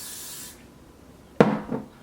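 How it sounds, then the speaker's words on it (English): A short, sharp hiss from a can of Got to Be glue spray, sprayed once and close after a stretch of quiet, with a second fainter puff right behind it. "This spray is the Got to Be glue spray."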